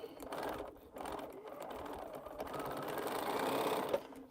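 A home sewing machine stitches mini pinwheel quilt blocks in short bursts of rapid mechanical whirring, stopping and restarting a few times, with the last run steadier and longer before a small click; no talking.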